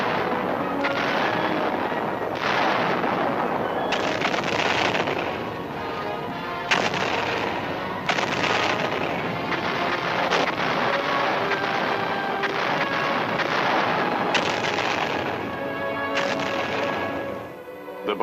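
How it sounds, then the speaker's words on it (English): Artillery and mortar shells bombard Quemoy island in an archival barrage, a dense, continuous roll of heavy booms and blasts overlapping one another for the whole stretch, loud and relentless with no voices. "hundreds of thousands of artillery and mortar shells hit the island, causing widespread destruction"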